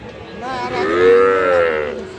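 A Sahiwal bull calf gives a single drawn-out moo at a livestock market, loud and close, rising and falling over about two seconds with faint market noise behind it.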